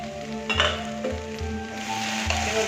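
Small pieces of mutton fat are dropped into a spice masala, setting off a steady sizzle marked by repeated clinks and dull knocks of a utensil against the pan.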